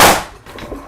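An explosive-powered bat fires in a single loud, sharp blast at the start, with its report decaying quickly into a quieter tail of room noise and a small clack at the end.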